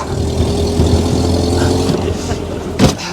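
A Derbyshire-built Paramount car with a small Triumph four-cylinder engine drives past, its steady engine note rising briefly near the end, with no talk over it.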